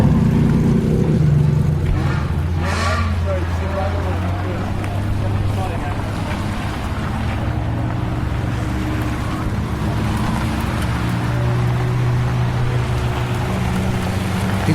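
Around twenty Ferraris roll past on gravel in a supercar cruise, a continuous close wash of low engine rumble and crunching tyres, with several cars overlapping and passing one after another.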